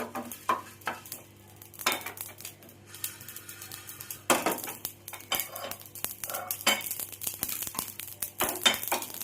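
Toasted whole spices (cumin, cardamom, cloves, cinnamon and black pepper) scraped and tipped from a hot pan into a bowl, with repeated metallic clinks, scrapes and a faint sizzle, close and fairly quiet, no talking.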